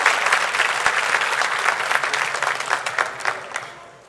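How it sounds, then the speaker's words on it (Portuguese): A church congregation claps steadily for several seconds during a service, a dense wash of hand claps that fades slightly toward the end. "Aplaude o Senhor."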